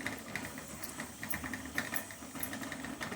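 A kitchen mixer grinder whirs as it grinds soaked red chillies into masala, a faint, steady motor hum with light rattling pulses and no talk.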